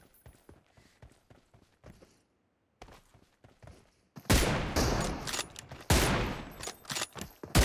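Gunfire in the mobile battle game PUBG Mobile: scattered single shots and footsteps at first, then loud rapid bursts of automatic fire.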